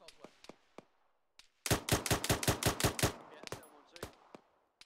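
Gunfire in the military game ArmA 3: a few scattered sharp shots, then a rapid burst of automatic fire of about ten rounds, followed by more sporadic single cracks fading off.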